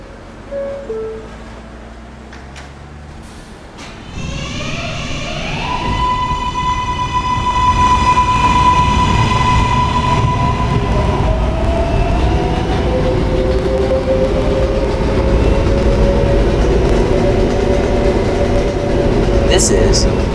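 A West Baton-bound K subway train runs between stations, with a rising electric motor whine and tonal hum as it accelerates, then a loud, steady rumble and rattle of wheels on track for the rest of the stretch.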